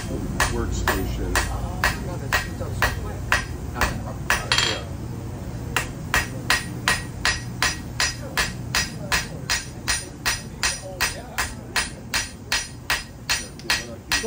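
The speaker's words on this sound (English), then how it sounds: "I'm not really swinging the hammer hard. I'm more bringing the weight up and allowing gravity to do the rest" Blacksmith's hammer planishing metal while forging a kunai, a long series of sharp ringing strikes at an even rhythm, lighter gravity-driven blows with faint workshop background between them.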